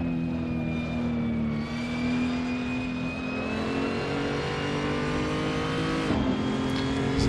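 Race car engine in a sim racing game on the Nordschleife, droning loud and steady at high revs with small pitch shifts as the throttle eases, no talk over it.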